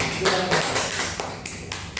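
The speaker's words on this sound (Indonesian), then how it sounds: "Tepuk tangan." Quick uneven claps from a small group in a classroom, sharp and close, running together briefly with no talk over them.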